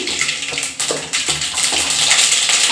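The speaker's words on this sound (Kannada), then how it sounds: "ಎಣ್ಣೆ ಕಾದಿದೆ ನಾನು ಸಾಸಿವೆ ಹಾಕ್ತಾ ಇದ್ದೀನಿ" Mustard seeds dropped into hot oil for a shavige bath, sputtering and crackling in a dense, steady hiss that stays close and fairly loud throughout, with no voices.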